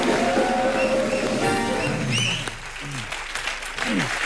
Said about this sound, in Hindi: सर आइए, विराजमान हो जाइए, तालियां जरा जोरदार हो जाए।